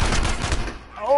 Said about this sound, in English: I hit him with the shotgun and the pistol.